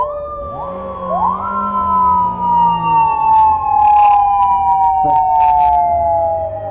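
A police motorcycle siren winds up and wails loudly and close, its tone sweeping then holding a long falling note, while the bike's engine runs underneath with a few sharp bursts and knocks.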